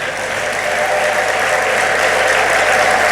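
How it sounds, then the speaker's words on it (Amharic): Dense, sustained clapping from a church congregation at a gospel service, loud and steady throughout without a break. "አጨብጭቡ፣ እልል በሉ ለእግዚአብሔር።"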